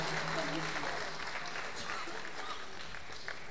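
Audience applause for tabla players at a concert of songs, a broad wash of clapping filling the room, steady and fairly loud, with voices talking over it.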